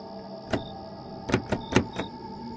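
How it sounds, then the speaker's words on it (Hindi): A latched door being pushed from one side: a single thump, then a quick cluster of three or four rattling knocks against the catch, close and fairly loud in a quiet room. "दरवाजे पर धक्का मारा, नहीं खुला।"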